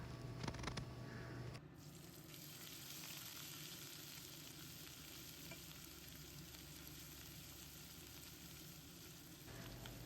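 Crackled green chillies fry in a pan with ground ginger, giving a continuous soft sizzle and faint stirring throughout, a little fuller at the start and end, with no voices over it.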